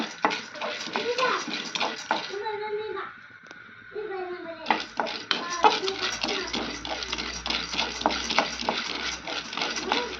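Ingredients lightly frying in a hot pan while an instant semolina breakfast is made, with stirring and soft sizzling running beneath a person talking close by.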